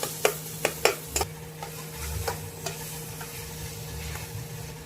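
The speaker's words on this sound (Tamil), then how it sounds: "அது வதங்க லேட்டாகனா நம்ம கொஞ்சம் அதை குத்தி உடச்சுடுறோம் நண்பர்களே." Tomatoes sauté in a pan while a spatula pokes and breaks them up. A quick cluster of sharp taps against the pan comes first, then a steady low sizzle with a few scattered knocks, and there is no talking.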